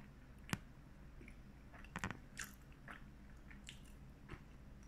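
Soft, chewy skewered dango eaten up close, with a few quiet moist bites and squishes at intervals over low background hiss and no talking.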